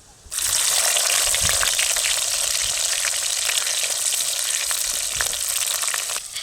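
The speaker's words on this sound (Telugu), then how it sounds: "బాగా నూనె అయితే బాగా కాగిందండి మెంతులు జీలకర్ర రెండు అయితే వేసేస్తున్నా" Fenugreek seeds, cumin and chopped onions hit hot oil for a village-style fish curry, erupting in an abrupt, loud, continuous sizzle that holds steady for several seconds with faint stirring clicks.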